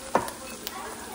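Meat goes into a pan of cooked-down meat masala. A soft, steady sizzle follows a brief clunk near the start, with one small tap partway through.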